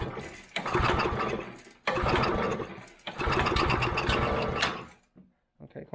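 An old, long-abandoned go-kart's small engine cranks on choke in three strong bursts, each a few seconds long and buzzing rough and close, with short pauses between them and a quieter tail at the end.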